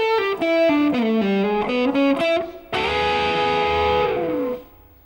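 Electric guitar with a driven, distorted tone playing a blues shuffle lick slowly, a run of picked and slid notes ending on a ringing chord that fades out, solo and close with no talking.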